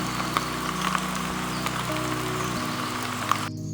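Steady rain falls during a walk at Vazhalikkavu, a soft continuous patter with a few sharper drops. A low background hum runs under it and cuts out near the end.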